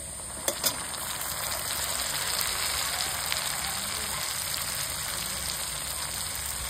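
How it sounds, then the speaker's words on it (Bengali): Garlic paste goes into hot oil with fried chopped onions, producing a steady close sizzle and crackle with a couple of sharp pops near the start, no voices. "পেঁয়াজটা ভাজা ভাজা হয়ে গেছে, এবার দিয়ে দিচ্ছি রসুন বাটা"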